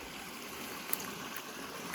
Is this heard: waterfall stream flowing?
yes